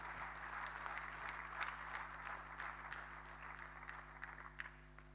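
A church congregation claps together during a worship service, a soft, distant patter of applause that runs steadily for a few seconds against a low hum, with no voices over it.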